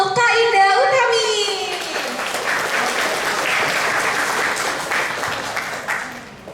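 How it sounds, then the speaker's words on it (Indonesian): An audience at an upper secondary school orientation day at an Islamic school in Jakarta applauds a guest speaker, a loud, dense wash of clapping that holds steady and then tapers, with a voice briefly over the start. "Beri tepuk tangan semua untuk Kak Indah Utami."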